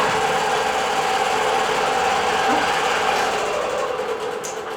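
A digital quilting machine stitches in a continuous, fast mechanical whir with a steady rhythmic chatter, loud and close, running unbroken throughout.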